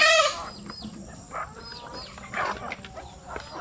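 Zampen native chickens on a farm cluck and crow at close range in short bursts, with a loud call opening the run and softer clucks scattered after it.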